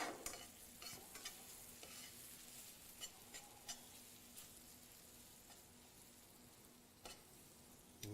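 Pancakes cook in a pan alongside a banana sauce, giving a quiet, steady sizzle broken by occasional soft ticks and scrapes, with no voices.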